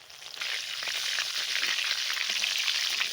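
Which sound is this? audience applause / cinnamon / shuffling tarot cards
cinnamon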